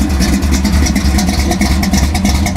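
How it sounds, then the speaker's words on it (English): An SC/Rambler gasser car engine revs repeatedly in short throttle bursts over a heavy low rumble, loud and close, with no talking. "Let's see if I can rev this thing a little bit without blowing myself up."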